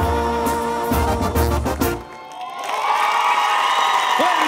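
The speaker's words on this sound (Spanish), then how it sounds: "Fuerte ese aplauso, fuerte el aplauso para Gaby Rivero y Ryan" A loud crowd cheers and whoops with scattered applause for a dance performance on a dance competition show, rising right after music cuts out.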